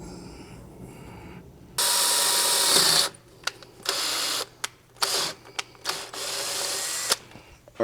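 A power drill whirs in several bursts: one long run, then shorter on-off pulses with brief pauses between, close and loud, no talking.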